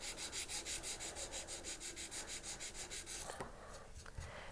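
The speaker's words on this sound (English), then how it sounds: "this is a nice grit for doing this with greenware clay. And so I've sanded that one down." Greenware clay being sanded for a silver ring, a steady back-and-forth rubbing with an even stroke rhythm of about four strokes per second, close and fairly soft, easing off near the end.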